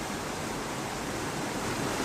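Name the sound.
waterfall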